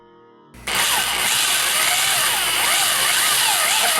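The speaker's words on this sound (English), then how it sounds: "Just going to let the rotary motion of the drill take the wood out." An electric drill running at about half speed bores into wood with no pilot hole, starting abruptly after a brief quiet moment and then whirring steadily and loudly with a grinding, chattering bite.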